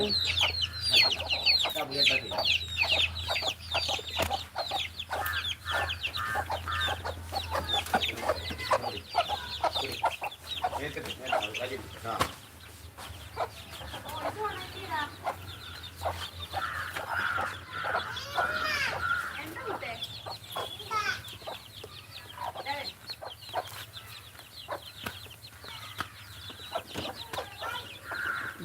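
Free-range country chickens cluck and chatter repeatedly close by in a busy, irregular stream, with people talking intermittently over the birds.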